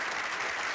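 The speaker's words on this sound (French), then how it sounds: "on l'applaudit, hein? On l'applaudit," A brief burst of dense audience applause, steady and fairly close, a crowd clapping together with no voices on top.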